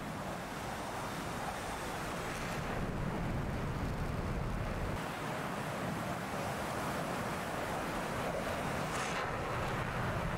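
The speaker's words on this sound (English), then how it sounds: "Wind's blowing us sideways big time." Hurricane wind in the DCS World flight simulator, a steady loud roaring rush with broadband gusting noise that swells and holds throughout, no talk over it.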